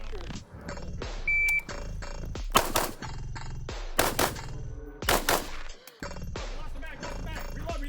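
An M90 rifle on gas setting 1 fires a handful of sharp, loud shots spaced a second or so apart, with a brief electronic beep early on and ringing, echoing decays between reports.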